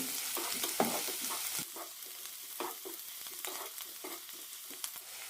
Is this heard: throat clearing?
no